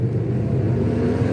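A loud boat motor engine drones steadily and close by, a continuous low rumble with no talking over it.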